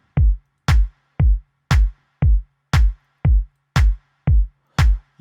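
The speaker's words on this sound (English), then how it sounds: "You can tell the rim shot has some reverb on it." A steady run of FL Studio drum hits, a reverb-soaked rim shot alternating with a low kick in an even groove, crisp and loud with short echoing tails, no voices present.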